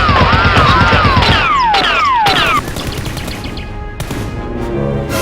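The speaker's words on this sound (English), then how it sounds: "As both sides are exchanging heavy gunfire, a robber upstairs hears the gunshots and runs down." Rapid bursts of toy-gun fire from a staged Nerf battle between SWAT-style players and masked robbers, dense and loud near the start and thinning out, with sweeping whistle-like effect tones and no talk.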